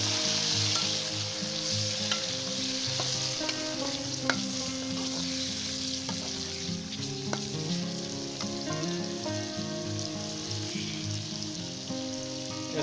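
Onions and tomatoes for baingan bharta sizzle steadily in hot oil as they are stirred together in a pan, a close, continuous crackle with faint clinks from the utensil and no talking.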